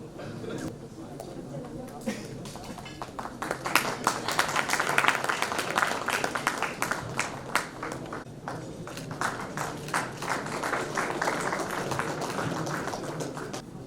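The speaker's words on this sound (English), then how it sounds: "Guys, you could have louder claps." Audience clapping at a design debate event, a steady patter of many hands that swells briefly then continues evenly, moderately loud throughout with no other sound standing out.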